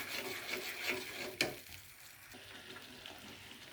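Semolina halwa being stirred in a pan, quiet rubbing and scraping strokes of a spoon through the thick mixture with one sharper knock, faint and close.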